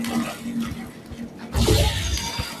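Gushing, splashy water sound from Portal 2 as blue paint is washed away, a steady rush that swells loudly halfway through and continues to the end, with no talk over it.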